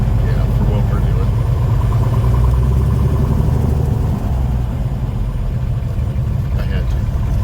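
A Piper Comanche's piston engine runs steadily and loudly on its first taxi in 13 years, just after a cylinder install, making a close, even drone while people talk over it.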